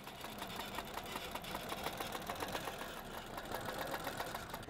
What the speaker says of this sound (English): we're just gonna baste the sides of the quilt so everything can keep staying square as we're going down the quilt